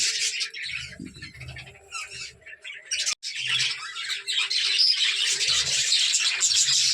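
A breeding colony of budgerigars with young chicks keeps up dense, continuous chattering: overlapping shrill chirps and squawks close by, with short low coos in between and no talk.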